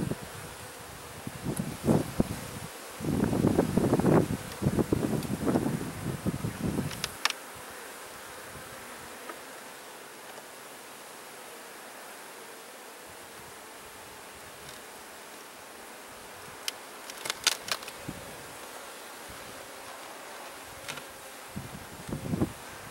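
Honey bees buzz around an opened hive during a fall honey harvest, a loud dense swarm hum for the first seven seconds, then a quieter steady background drone with scattered nearby wingbeats.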